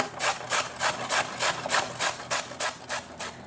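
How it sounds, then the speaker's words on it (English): A carrot is rubbed against a grater in a quick, steady rhythm of about a dozen rasping strokes, close and clear with no talking. "the last item is to grate a carrot"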